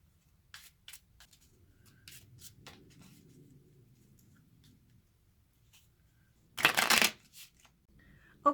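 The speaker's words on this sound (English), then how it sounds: "I've shuffled the cards" A deck of fortune-telling cards is shuffled in one loud, close burst of rapid riffling, after a stretch of faint taps and rustles. No one speaks.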